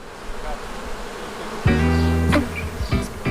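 Bees buzz steadily in a continuous insect drone, louder and closer in the second half, with no talk over it.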